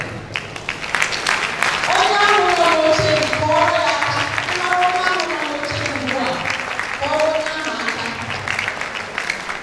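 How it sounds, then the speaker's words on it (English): Applause from an audience at a World Elder Abuse Awareness Day gathering in Abia State, steady clapping of a crowd with voices talking over it and a tonal voice rising and falling throughout. "I would like you to clap for the person sitting on your chair"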